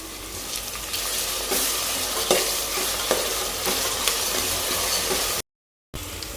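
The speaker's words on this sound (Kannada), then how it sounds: "ಇದು ಸ್ವಲ್ಪ ಫ್ರೈ ಆದಮೇಲೆ ನಾವು ಮೆಣಸಿನ್ಕಾಯಿ ಹಸಿ ಶುಂಠಿ ತೊಗೊಂಡಿದ್ದೆಲ್ಲ ಅದನ್ನು ಮಿಕ್ಸಿ ಮಾಡ್ಕೊಂಡಿದ್ದೀನಿ ಅದನ್ನು ಹಾಕ್ತೀನಿ" Ground green chilli and ginger paste frying in a pan with garlic and fenugreek, a loud steady sizzle with stirring scrapes recurring about once a second, cut by a brief silence near the end.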